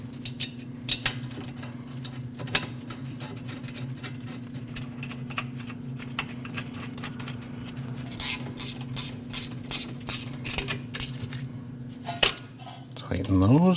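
A ratchet tightens the brake caliper bolts on a 2014-2023 Jeep Cherokee during a rear brake job. Rapid, evenly spaced clicks come up close in a short burst over a constant low workshop hum, with no talking.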